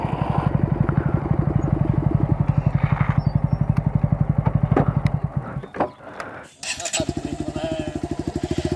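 A motorcycle engine idles nearby with a steady, rapid putter that drops out briefly near the middle and then resumes, while people talk in the background.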